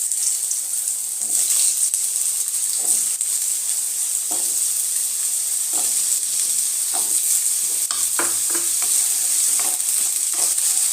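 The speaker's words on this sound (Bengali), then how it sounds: "তেলটা গরম হয়ে গেছে এবার আমি আলুগুলো একটু ভেজে নেব" Potatoes sizzle loudly and continuously in hot oil, with occasional scraping and stirring noises throughout and no voices.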